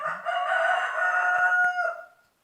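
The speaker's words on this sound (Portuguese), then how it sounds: "O galo tá chamando você para vir comigo." A rooster crows once nearby, a loud drawn-out call lasting about two seconds, with a couple of faint clicks in the background.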